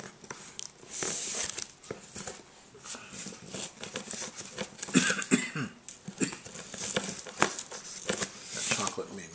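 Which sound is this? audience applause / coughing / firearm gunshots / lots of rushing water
coughing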